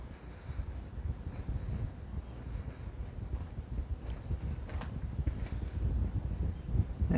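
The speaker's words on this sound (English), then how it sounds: "there may be a little bit of wind that you're hearing at this minute. There's a bit of a breeze blowing through" Breezy wind gusting outdoors beside a church exterior in Laytown, a steady low rumble and buffeting with faint occasional knocks, no talking.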